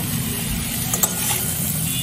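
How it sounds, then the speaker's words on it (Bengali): A steady close sizzle of jackfruit seeds, jute leaves and shrimp sautéing with salt and turmeric in a pan over medium-high flame, with a brief clink of a utensil partway through. "লবণ হলুদ ভালো করে মিশিয়ে দিয়ে আমি সব কিছু একসাথে একটু কষিয়ে নেব"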